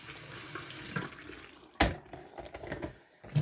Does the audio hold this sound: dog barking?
no